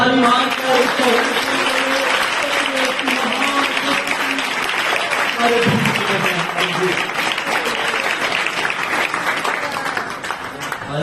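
A church congregation claps loudly and steadily during a Hindi-language Sunday worship service, the dense applause filling the room at close range, with voices audible beneath and between the clapping.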